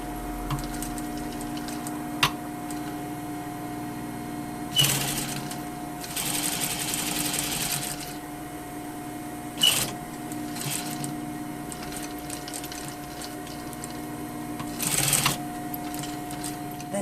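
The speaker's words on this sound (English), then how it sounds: "you're going to start sewing right at the beginning" A sewing machine stitches a handkerchief pocket seam over a steady motor hum, with a few short, louder bursts of stitching and one longer run in the middle, close and alone.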